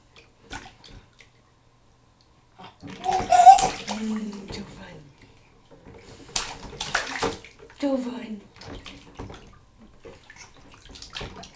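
Pet bird splashing in bath water indoors, short bursts of sloshing and splashing in separate bouts, with a person talking between them.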